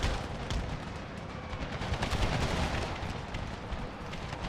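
A Civil War battle in Empire: Total War with a Brothers vs. Brothers mod, where howitzers, cannons and Gatling guns fire on infantry. Dense, continuous rumbling fire and booms blend into one loud, unbroken battle roar.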